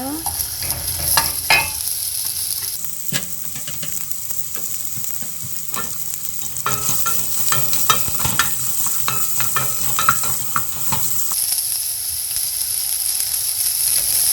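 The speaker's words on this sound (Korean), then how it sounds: "양파 볶을게요." Onion stir-frying in a pan for a shrimp garlic rice dish, a steady loud sizzle with repeated scraping and clacking of a utensil stirring throughout, no voices.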